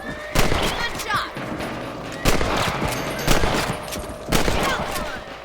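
Four sharp rifle shots ring out at rabbits in Red Dead Redemption, evenly spaced about a second apart, each crack trailing off into a short echo outdoors.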